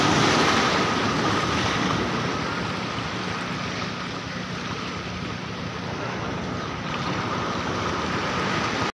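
Sea waves roll in against the stacked rock barrier on the Mahabalipuram shore, a loud, continuous wash of surf mixed with wind rumble on the microphone and no talk.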